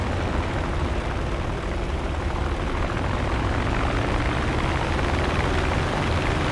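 Propeller engine of a P-47D-28 Thunderbolt fighter in War Thunder, a steady, dense roar with no break, loud and close, droning on through the whole stretch.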